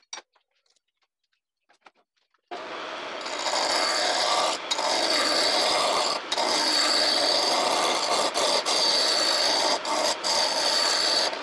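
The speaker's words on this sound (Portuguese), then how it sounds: "Então agora eu vou botar a peça aqui pra gente tornear" A wooden mallet being turned on a wood lathe: after a few quiet knocks, a loud, steady raspy scraping of the cutting tool against spinning wood starts and continues with brief dips.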